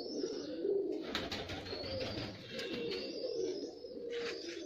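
Racing pigeons coo in a low, throaty rolling murmur, repeated close by in a loft with faint chirps and bird calls mixed in; no talking.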